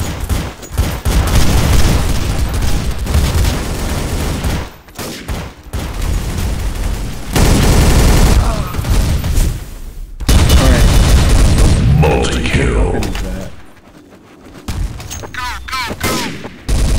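Counter-Strike: Source match with heavy, continuous gunfire and booming blasts, one loud explosion-like burst standing out amid the rapid shots, all close and dense, with brief voices in the mix.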